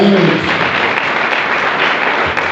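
Congregation applauding during a French-English Sunday church service, steady dense clapping filling the space throughout, loud and close, with a faint voice briefly at the start.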